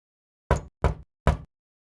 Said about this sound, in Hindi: रूम के पास जाकर नॉक करती है।